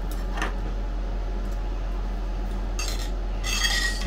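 A spoon scrapes and taps inside a pot of butternut squash soup, making a few short clinks and a scraping stretch near the end over a steady low background hum.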